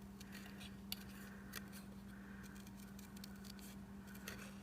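Stampin' Up! paper snips cut through paper with soft, quiet crisp snips and scrapes at an irregular pace, with a few sharper clicks and a low steady hum behind them.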